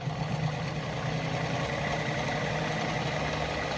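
A Lada model 233 sewing machine runs steadily through fabric with a continuous, even motor whir and rapid needle chatter, close and without pauses.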